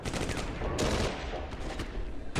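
A PPSh submachine gun fires in the Steel Fury tank battle game, several rapid bursts over a loud ongoing battlefield din.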